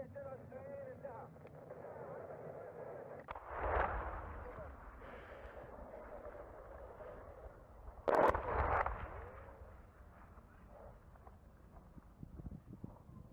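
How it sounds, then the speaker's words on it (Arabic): Barrel bomb shelling on the outskirts of Jarjanaz, Syria, heard as two heavy booming blasts a few seconds apart, the second sharper and louder, with voices talking over the noise throughout. "قصف براميل متفجرة على أطراف بلدة جرجناز"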